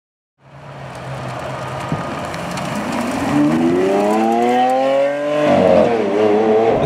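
A Lamborghini Aventador SV engine starts and revs, a loud rising howl that climbs in pitch, dips briefly, then surges again, close by and alone.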